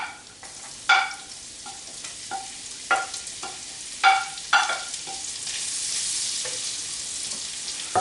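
Shallots sautéing in a pan: a soft, steady sizzle under a series of scraping and stirring taps from a utensil, close by with no talking.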